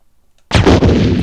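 A single loud grenade blast in a Resident Evil game, a sharp booming explosion bursting out of silence and holding a dense roar for under a second.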